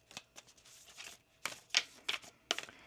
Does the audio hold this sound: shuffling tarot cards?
yes